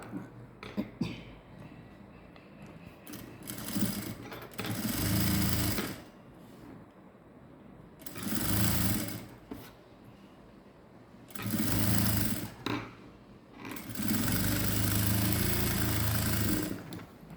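A sewing machine stitching a blouse sleeve closed, for a balloon-sleeve princess-cut blouse, runs in four fairly quiet bursts of steady whirring, the last the longest, separated by soft handling noise.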